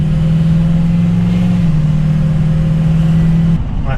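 A Ford F250 King Ranch truck with an ATS transmission pulls hard on a test run, its engine droning loud and steady from inside the cab at a constant pitch before the tone abruptly changes near the end.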